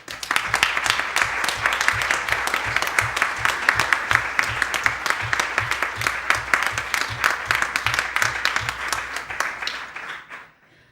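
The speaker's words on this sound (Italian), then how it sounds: "Passerò il vostro applauso a John." An audience gives sustained, dense applause that stays loud and even for about ten seconds, then trails off abruptly into silence.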